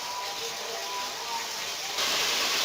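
Chicken, about three pav, hits hot oil in a karahi for Peshawar restaurant-style charsi karahi, giving a steady loud hiss and sizzle that swells louder partway through.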